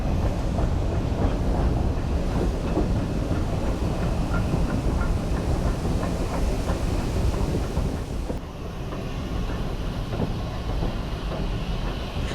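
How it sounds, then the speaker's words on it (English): A small Welsh Highland Railway steam engine labours up an incline hauling a heavy train of carriages, a continuous close rumble with rhythmic clatter throughout, softening slightly near the end. "the mighty little engine has to work hard to draw the substantial train of carriages up the incline"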